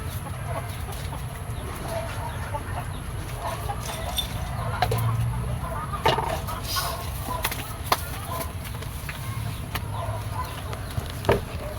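Chickens clucking intermittently nearby over a steady background hum, with a few sharp knocks and thumps mixed in.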